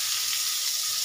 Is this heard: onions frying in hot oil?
yes